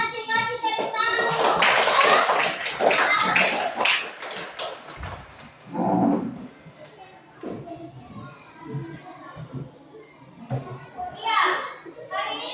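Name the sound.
applause, clapping hands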